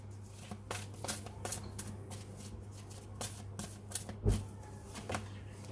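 Tarot cards are shuffled by hand in quick, crisp riffles and flicks, close and fairly quiet, with a low steady hum underneath and no talking.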